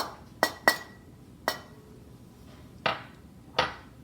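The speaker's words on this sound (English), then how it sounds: "I'm just going to whisk all my dry ingredients together" A whisk clinks sharply against a bowl five times at uneven intervals while flour and cornstarch are mixed, each tap bright and short over a quiet background.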